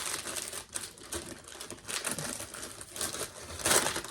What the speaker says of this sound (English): Excuse the rustling. Proper rustling going on.